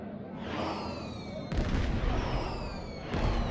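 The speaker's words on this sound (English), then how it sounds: "Fireworks." Fireworks bursting in the sci-fi game Star Trek Online, on Romulan world Viranat: rumbling booms with whistling rising streaks, one burst at the start and louder ones around midway and near the end, over a steady crowd-like bed.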